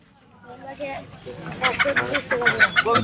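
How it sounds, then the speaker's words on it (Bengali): Ducks quack and chickens squawk close by in a lively cluster at a village market, calls growing louder and busier as people talk in the background. "যথেষ্ট পরিমাণ হাঁস মুরগি আছে"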